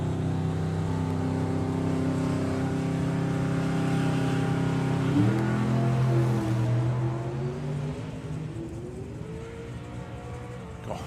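A drag racing car at an FIA drag racing event roaring at full power down the strip, a loud sustained engine howl with a sharp shift midway, then the pitch sweeping as it recedes and fades.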